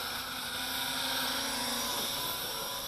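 A Syma X9 quadcopter drone flying at night at three-quarter throttle gives off a constant high-pitched whine from its small rotors, steady and close, with no voices.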